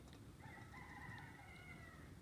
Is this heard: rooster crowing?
yes